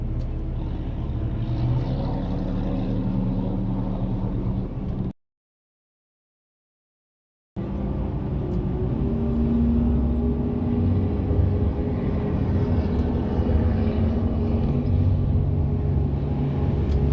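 A Bristol Bay sockeye fishing boat in the Nushagak District runs its engine steadily at speed with a loud, continuous drone and wind and water noise, broken by a brief gap of silence.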